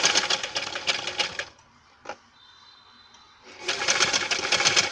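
Sewing machine stitching bias piping onto cloth: a fast, loud mechanical whirring hum that stops for about two seconds, with a single click in the pause, then starts again.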